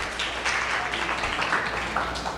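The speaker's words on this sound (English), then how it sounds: "A little bit of applause. Thank you." A small audience at a Nerd Nite talk in Chicago gives a short burst of applause, fairly quiet and diffuse, with scattered claps blending into a soft wash.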